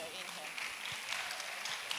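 Applause at a conference as a woman comes up to collect an award, a steady wash of clapping from an audience, partly masked by a constant hiss and background noise.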